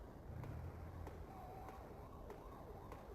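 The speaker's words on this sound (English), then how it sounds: "Siren in the distance." A faint siren wails in the distance over a low rumbling noise bed in the video game Wario Land 4, with no voices.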